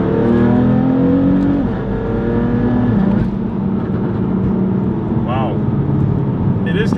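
A rebuilt, fire-damaged BMW M3 engine revs close by as the car pulls away. Loud rising and falling engine notes shift through the gears, with a few brief squeals near the end.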